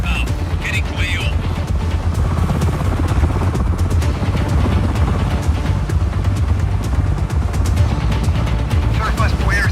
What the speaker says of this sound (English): Helicopter inbound. Getting to AO.